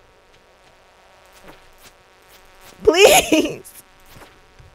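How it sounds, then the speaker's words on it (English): Insects buzzing inside a mine in the video game Stardew Valley, a fluttering drone that swells close by for a moment amid faint game sounds, with a brief spoken word over it. "It's the sound of the buzzing in my ear."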